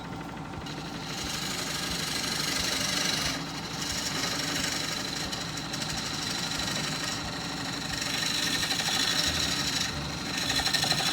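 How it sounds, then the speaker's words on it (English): A skew chisel cuts wood on a spinning lathe, a continuous rough whirring scrape with motor rumble, rising and easing in loudness as the blade squares a shoulder, close and without talk. "we'll square up the shoulder with the skew"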